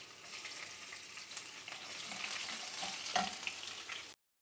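Cumin seeds and garlic frying in about half a cup of oil in a karahi, a steady close hiss of sizzling with a brief louder crackle near the end, no talking.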